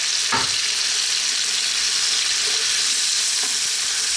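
Canned mushrooms fry with bacon in a pan over high heat, giving a loud, steady sizzle broken by a few brief stirring scrapes as the food is tossed.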